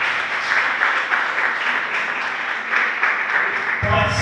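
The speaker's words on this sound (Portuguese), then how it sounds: "uma linda salva de palmas para Jesus." Guests at a wedding ceremony applaud together in a sustained round of clapping. It ends abruptly as another sound cuts in.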